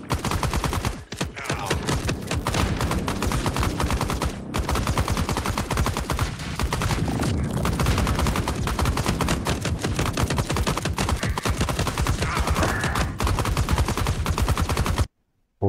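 Weapons fire in the VR game Dixotomia played on a Quest 3, a dense, nearly continuous rattle of rapid shots that fills the whole stretch with only brief gaps before cutting off.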